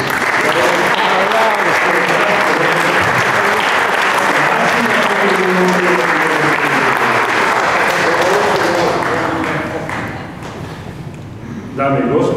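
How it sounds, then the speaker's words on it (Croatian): Sustained loud applause from an indoor audience at an award ceremony, dense clapping for about ten seconds before thinning out, with some voices mixed in. "I ja bih vas zamolio za još jedan aplauz."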